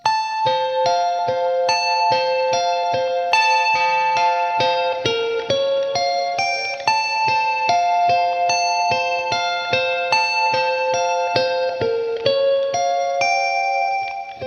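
A bright electric guitar riff, played with a capo, rings out in steady repeated plucked notes, with echo and shimmering effects, played alone and continuously.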